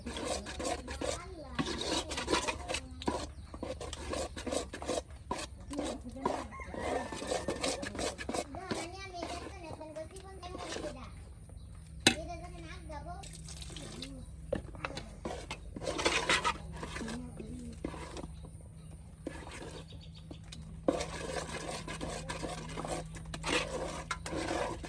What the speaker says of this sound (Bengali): আর অন্যদিকে এই যে কাই তৈরি করা হচ্ছে পিঠার জন্য,